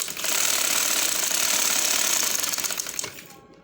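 A sewing machine stitches dori piping onto khadi fabric in a fast, even mechanical rattle that runs loud and close for about three seconds, then stops abruptly.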